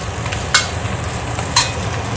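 Chili stir-fries in a pan with a continuous sizzle, and two sharp scrapes of the spatula punctuate the short, close stretch, with no voices.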